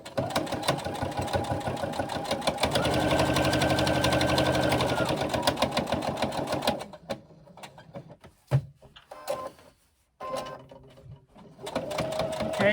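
Sewing machine running a long top-stitching seam to attach a pocket to a bag lining, steady rapid needle clatter for several seconds, then pausing amid fabric handling and clicks before stitching resumes.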